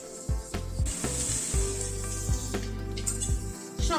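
Capsicum and tomato going into a curry pan raise a steady sizzle, with a few soft clatters and stirring knocks of utensils over the continuous frying hiss.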